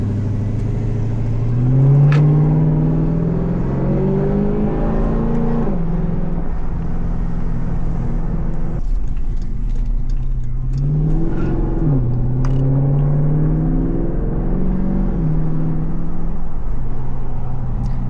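A loud 5.7 Hemi V8 Jeep engine rumbles close up, repeatedly revving and accelerating in long rising pulls with gear changes between, heard alone with a steady deep growl.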